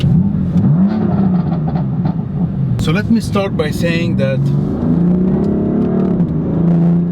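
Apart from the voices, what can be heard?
sports car engine revving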